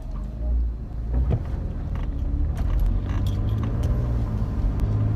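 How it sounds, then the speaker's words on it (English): A truck rolls past outside on a road, a steady low rumble building and holding for several seconds, with scattered small rattles and clicks near the microphone. "I'm gonna let this truck go by."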